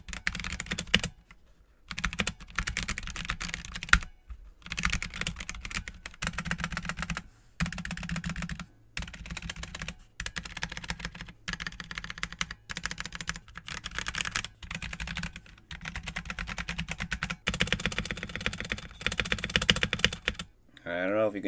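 Typing on a stock Drop ENTR entry-level mechanical keyboard: rapid, close key clacks in bursts with short pauses between them, steady and fairly loud, with a faint ping under the keystrokes.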